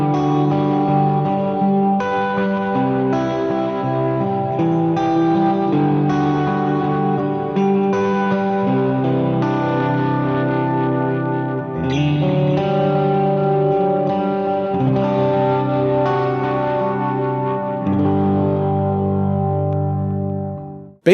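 An electric guitar played through a Line 6 Helix plays sustained, chiming chords drenched in Memory Man-style delay and reverb, each phrase ringing out and trailing off into echoes.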